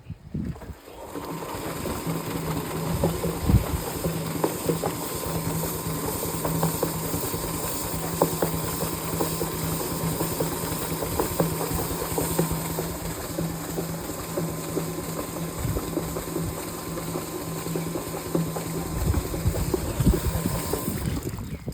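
Tank washing machine for cleaning drum interiors and exteriors running steadily, a continuous mechanical whir with ratcheting clicks and a low hum, moderately loud throughout with no talk.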